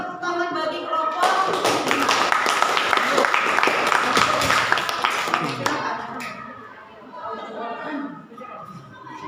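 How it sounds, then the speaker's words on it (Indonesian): Classroom students applaud a group with a lively burst of close, sharp hand clapping, and voices talking over and after it as the clapping dies down. "kita berikan tepuk tangan bagi kelompok."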